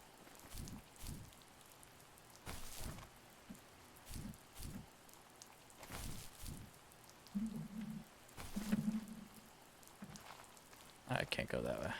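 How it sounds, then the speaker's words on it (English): Soft rain falls in a quiet video game with no soundtrack, a faint continuous patter broken by intermittent low-level talking. "It's so quiet with just the rain. Like there's no soundtrack, it's just rain."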